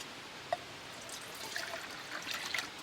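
Water is poured into a titanium pot on a wood stove, a soft, quiet trickle with faint drips over low background noise.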